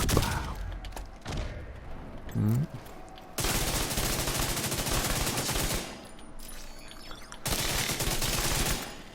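Bursts of assault rifle fire from The Division 2, played on hard difficulty, come in sustained loud volleys broken by short pauses, with sporadic game sounds in between.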